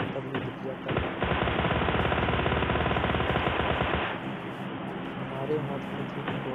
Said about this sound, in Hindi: हमारे हाथ में थी टॉमी गन